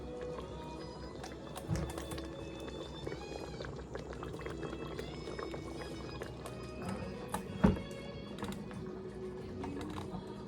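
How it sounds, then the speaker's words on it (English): Short rib sauce simmers in a pot, giving a steady low bubbling that runs throughout at moderate level, with a couple of brief louder knocks partway through. "So it's simmering."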